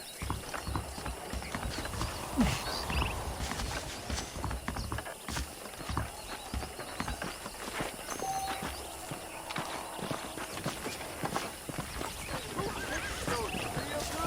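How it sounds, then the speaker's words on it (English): Horses in the Red Dead Redemption video game: steady clip-clop of hooves with occasional neighs and whinnies over a busy ambient game soundscape, moderately loud and continuous. "The horses are saddled up over here"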